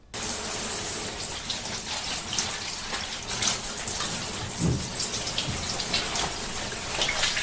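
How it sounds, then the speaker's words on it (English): Water runs steadily into a bathtub being filled for a hot bath, a continuous close splashing gush lasting throughout without pause. "Enjoy a good hot water bath."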